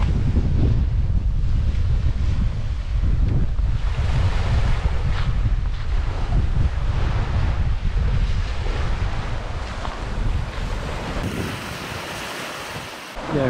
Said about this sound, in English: Don't know if you can hear me because of the waves.